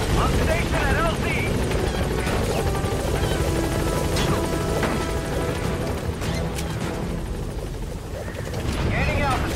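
A helicopter in the video game Metal Gear Solid V: The Phantom Pain roars with a loud, steady rotor wash that fills the whole stretch, with crashes and voices breaking through over it.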